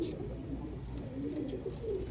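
Pigeons kept by fanciers in Pakistan coo softly and repeatedly at close range, giving low, rolling calls over quiet background noise.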